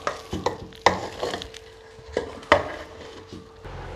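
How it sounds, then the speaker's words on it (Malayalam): Cooked tapioca gets mixed in a pan after the heat is turned off, with loud close clanks and scrapes of a spoon against metal and a faint lingering sizzle between strokes. "നമ്മളിത് കപ്പ ഒന്നും കൂടെ നല്ലപോലെ മിക്സ് ചെയ്യുക"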